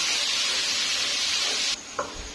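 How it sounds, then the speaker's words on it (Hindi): Garlic and ginger fry in hot oil with a steady, close hissing sizzle that cuts off abruptly, followed by a single brief utensil clink. "मैं ये 1 खाने का चम्मच लहसुन डाल दूंगी और 1/2 खाने का चम्मच अदरक डाल दूंगी। इसको मैं फ्राई कर लूंगी अच्छे से।"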